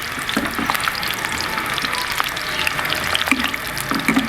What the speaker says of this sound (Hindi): हमारा जो तोम है और अदरक है वो जो है देखें आवाज़ आपको आ रही है